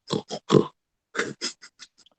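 An animal snorting as it wakes up: a quick run of three snorty bursts, a short pause, then several smaller fading puffs, close and fairly loud.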